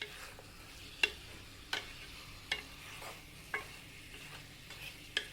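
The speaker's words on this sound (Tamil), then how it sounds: "சிக்கனும் நல்லா அந்த இஞ்சி பூண்டு விழுது வெங்காயம் நல்லா ஒன்றோட ஒன்று நல்லா மிக்ஸ் ஆகிற மாதிரி இந்த மாதிரி நல்லா கிளறி விட்டுடலாம்" Chicken with ginger garlic paste and onion sizzles quietly in a pan for chicken chukka, while a spoon scrapes and taps against the pan every second or so, with no speech.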